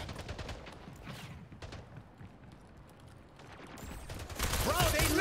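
Gunfire in the portal shooter Splitgate comes as scattered bursts of rapid shots, quieter in the middle and growing louder toward the end, with game effects around them.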